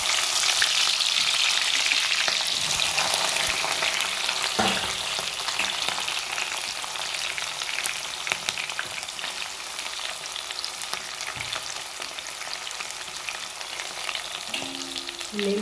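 Onions and green chillies sizzle steadily in hot oil in a pan for a fish head curry, a dense continuous frying hiss with occasional stirring clinks and scrapes.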